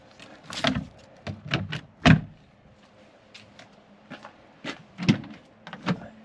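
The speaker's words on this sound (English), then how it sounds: "I can open the door easily." A series of knocks, clunks and latch sounds as an RV door is handled and swung open beneath an installed awning, close by, with uneven spacing and no talking.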